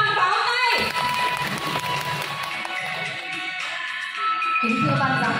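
Spectators at a 2022 rural farmers' contest in Đông Lỗ commune clap and cheer. The applause is moderate and somewhat distant, a continuous patter of hands with scattered cheering in a large space.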